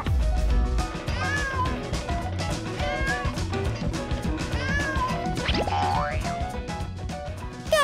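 A cat meows a few times amid loud, busy music and cartoonish sound effects, including a rising boing.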